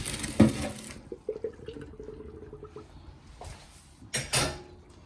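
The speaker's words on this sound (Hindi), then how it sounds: "ड्रेन कर देंगे।" Water from boiled pasta being drained, a short splash and pour at the start followed by scattered drips and trickles, then another brief burst of pouring near the end, close and fairly quiet.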